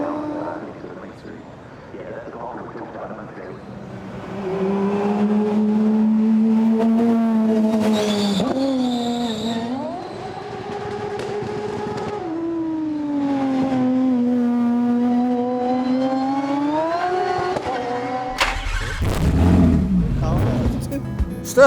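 A powerful supercar climbs a hill at a paddock event, its engine note rising and falling through long revving pulls, loud and close, with people talking over it in places.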